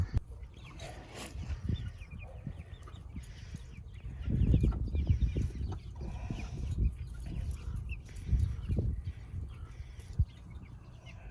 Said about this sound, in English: Oh, little chicken. Here, little rooster.